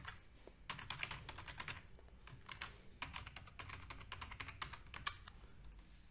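Rapid typing on a computer keyboard while entering a login ID and password, irregular bursts of close, crisp key clicks with short pauses between them.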